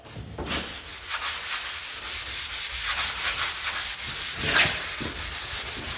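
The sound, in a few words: scrubbing rusty metal with Comet cleanser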